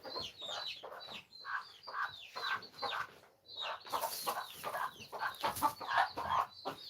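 A group of chickens clucks and squawks nonstop at close range, their overlapping calls rising and falling in busy bursts, with a brief lull partway through before the chatter resumes.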